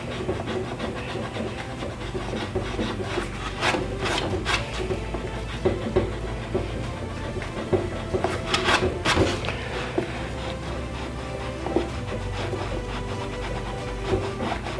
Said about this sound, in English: now I'm going to come in with the eraser and erase some of these black spots